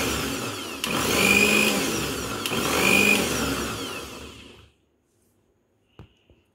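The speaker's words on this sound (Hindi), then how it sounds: "हम मिक्सी को ऑन कर लेते हैं अभी।" An electric mixer grinder blending a chocolate shake with chocolate syrup, running in two loud whirring bursts with pitch rising and falling, then switching off to silence followed by a couple of faint clicks.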